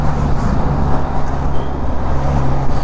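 Dense road traffic heard from a Benelli TRK502 motorbike while riding, a loud continuous rumble of car and bus engines with passing vehicles and wind, no speech.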